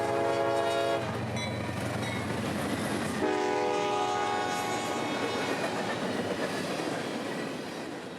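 Freight train M452 passes a Florida grade crossing, sounding two loud horn blasts, an early one and another about three seconds later, over the continuous rumble and clatter of rolling railcars that fades slightly at the end.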